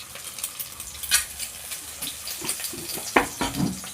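Egg for chow mein crackles lightly in a hot pan with soft sizzling and intermittent scraping taps of a utensil scrambling it, close and fairly quiet, with no talk.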